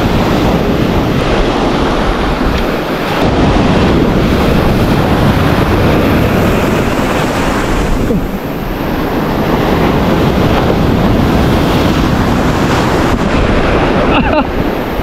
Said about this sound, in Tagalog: Grabe ang alon no.